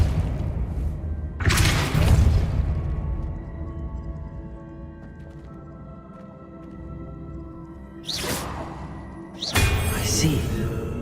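Depulso spell impacts in the wizarding game Hogwarts Legacy, three bursts of broadband whooshing force around 1.5, 8 and 9.5 seconds over a quiet ambient background, with spoken voice in between.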